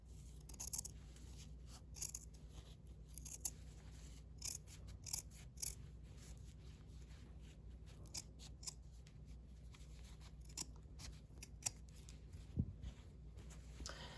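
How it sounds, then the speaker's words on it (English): Scissors snip through quilted coat fabric, trimming seam allowances and corners, with a quiet irregular series of short close cuts and small rustles of cloth between them. "So I've trimmed that out and I trimmed my corners"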